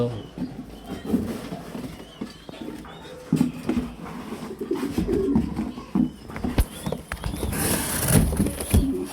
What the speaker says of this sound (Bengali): মাত্র আসছে 7 পিস কবুতর